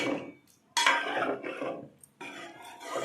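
A metal lid clatters onto a pot of bottle gourd tamarind stew, with two sharp clanks and scraping rattles of cookware close by.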